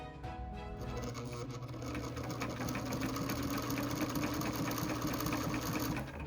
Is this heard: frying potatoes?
no